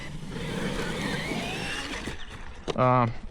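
A Traxxas Wide Maxx RC car with freshly tuned shocks drives and slides its back end around, giving a steady whirring motor and tire noise close by, with a brief voice cutting in near the end.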